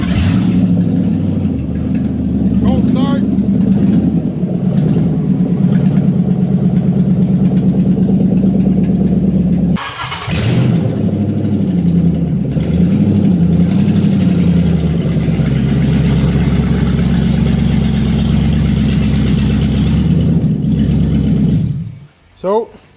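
A 1966 Dodge Coronet body on a Chrysler 300 chassis starts and settles into a loud, steady, rumbling idle close by, with a brief dip in the running partway through before it is shut off.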